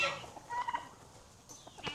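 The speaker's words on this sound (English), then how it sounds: "I've got to feed all these chickens" Chickens cluck softly in short, scattered bursts, fairly quiet and close, with a brief sharper call near the end.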